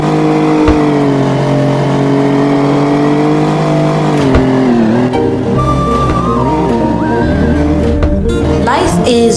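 A Jaguar race car in a video game revs hard with a steady engine drone, then its tires squeal and skid through turns while the pitch shifts. The sound is loud and close throughout.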